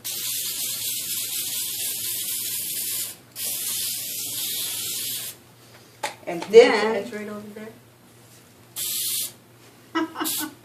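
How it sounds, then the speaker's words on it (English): Short bursts of baking spray hissing onto parchment paper, several in a row, loud and close, with a brief spoken remark in the middle. "you take your baking spray and you put that on the parchment paper"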